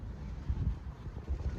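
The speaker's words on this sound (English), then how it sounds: "it's very, very windy today" A strong, cold northerly wind buffets the microphone in low, rumbling gusts that surge and fade unevenly, with nothing else heard over the blustery roar.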